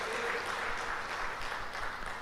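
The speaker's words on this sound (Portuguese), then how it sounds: "Vamos aplaudir?" A church congregation at a worship service applauds, giving a steady, soft wash of many hands clapping at some distance with no distinct individual claps.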